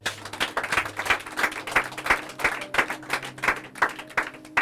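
A church congregation claps in steady rhythm to praise Jesus, even, repeated handclaps at a brisk beat, moderately loud, with sustained music tones underneath.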